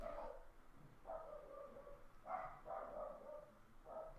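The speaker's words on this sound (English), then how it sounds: "Sorry about the barking." A dog barks in the background of a quiet room, several muffled, moderately distant barks spaced irregularly over a few seconds, no talking.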